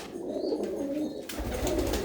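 Pigeons coo in a steady low murmur throughout, close and fairly loud, with a burst of rustling or handling noise toward the end.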